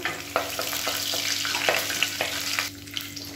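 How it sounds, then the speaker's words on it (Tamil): Curry leaves added to hot oil with asafoetida for a spicy tamarind curry, sizzling and crackling steadily with quick popping bursts, close and fairly quiet. "கொஞ்சமாக கருவேப்பிலை சேர்த்துக்கலாம்."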